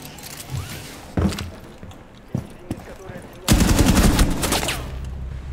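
Gunfire in the video game Rainbow Six Siege: a few separate shots followed by a sustained burst of rapid automatic fire, with fainter game effects between them.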